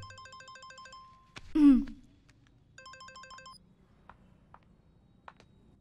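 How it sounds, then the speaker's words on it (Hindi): An electronic phone ringtone in a Hindi-dubbed South Indian horror action film chirps in quick repeating bursts, stops for a loud whoosh, then sounds again briefly before faint clicks. "फोन।"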